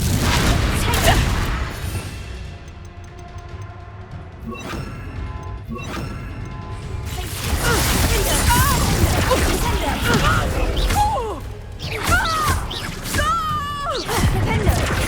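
Confringo blasting spell going off in Hogwarts Legacy, loud booming crashes and thuds amid dense game combat noise, with voices shouting and talking over the chaos throughout.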